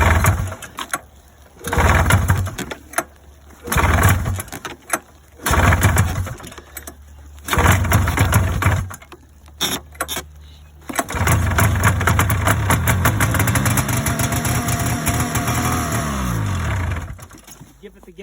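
A snowmobile engine that has sat unused for years cranks in short bursts, then catches and runs unevenly at a loud close idle, its pitch wavering before it fades; a voice speaks briefly between start attempts.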